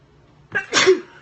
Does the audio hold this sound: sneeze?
yes